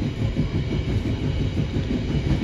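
The Kutojaya Selatan train runs straight through Ciawi station on track 2, a loud, steady close rumble of wheels and carriages rolling past.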